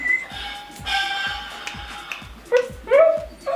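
A dachshund at a breeding kennel gives several short yips and whimpers near the end, over a background of repeated rhythmic clicking.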